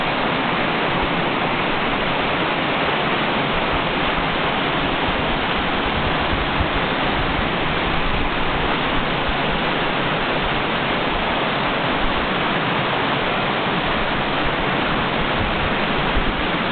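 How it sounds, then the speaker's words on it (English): A waterfall near a bridge roars with a steady, dense rush of falling water that holds constant, close and loud throughout, with no voices. "And over here is the waterfall."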